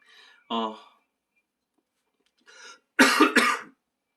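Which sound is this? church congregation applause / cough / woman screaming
cough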